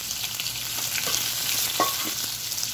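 Boiled potatoes fry with spices in a pan for dry potato bhaji, giving a brief, close, steady sizzle with a few soft stirring scrapes.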